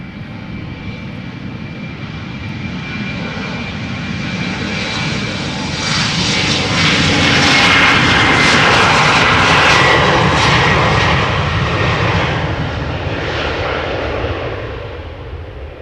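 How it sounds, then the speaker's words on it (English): An Embraer 190 jet takes off outbound from Amsterdam Schiphol, its engine roar building steadily from a distant rumble to a loud peak midway, then slowly fading as the aircraft climbs away, with no voices. "another Embraer 190 taking off outbound to Basel"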